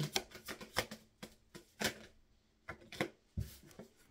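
Tarot cards are shuffled by hand in quick, crisp riffling bursts, close and fairly quiet, with short pauses between the rapid papery flicks.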